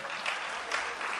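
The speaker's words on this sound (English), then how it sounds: "Applaudissements pour Abel en anglais." Short, lively applause from the audience at an international finance summit hosted by a central bank, a dense wash of clapping with slight swells in intensity.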